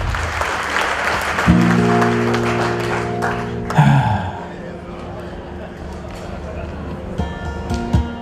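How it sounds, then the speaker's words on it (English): Event audience clapping in a hall, a dense burst of hands that rises and fades out, with music tones and a voice speaking over the top. "How about another hand, another applause for all the volunteers"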